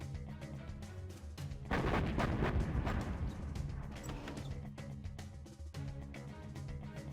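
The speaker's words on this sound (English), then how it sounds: "Got an artillery coming in, takes out the market." Artillery shells strike a black market in the real-time strategy game Command & Conquer Generals Zero Hour: a dense, rumbling barrage of booms swells suddenly, then fades into continuous low battle noise.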